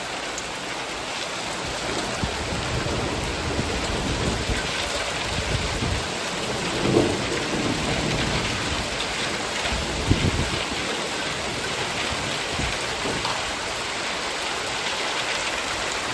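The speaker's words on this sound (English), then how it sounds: "I wanted rain and I got hail." Hail falls during a storm at a house in Umbria, Italy, a dense, steady patter drumming on surfaces around the listener, with a few louder knocks and no talk.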